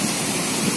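The Bhushi Dam waterfall roars close by in a dense, steady wash of rushing water, with no voices over it.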